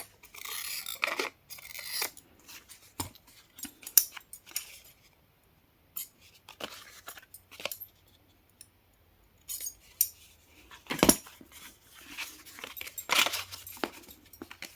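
Scissors snip through paper as a journal tag is cut out by hand, close and quiet, in short irregular bursts of crisp cuts separated by brief pauses.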